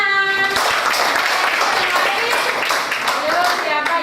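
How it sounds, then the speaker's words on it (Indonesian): Applause from a group of people in a classroom, steady clapping that lasts several seconds, with voices mixed in. "Ya, tepuk tangan."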